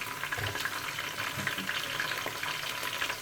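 Ginger paste sizzling among golden fried onions in a hot pan, a steady close crackle and spatter with occasional stirring, no voices.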